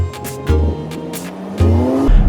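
Several cars race on a winter road, tires squealing in repeated bursts over engines that surge and climb in pitch, loud and close, with no one talking.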